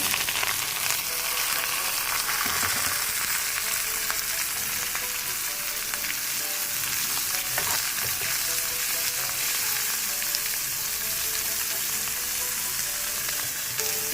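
Steamed mustard greens tossed into hot frying oil in a pan, a dense, loud sizzle that crackles steadily for the whole stretch, with occasional stirring scrapes and no speech.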